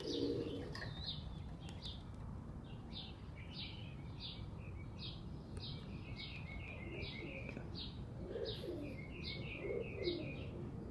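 Young and older pigeons coo softly and chirp in repeated short calls against a steady background hiss.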